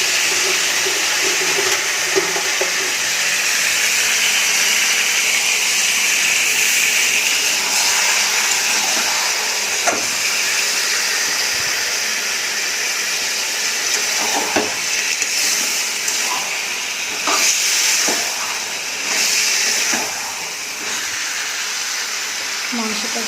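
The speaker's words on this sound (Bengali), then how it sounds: "কষানো হচ্ছে এই শব্দ দিলাম ভালো করে কষিয়ে" Meat and spice paste sizzle and hiss in a hot pan as they are stirred and braised for a red meat curry, a loud continuous frying hiss with occasional scraping.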